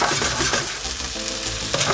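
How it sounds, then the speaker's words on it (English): Purple sprouting broccoli and sauté potatoes sizzle loudly in a hot pan, a dense, continuous crackling fry heard up close with no voices. "Put the purple sprouting in there as well so you can hear it sizzling away."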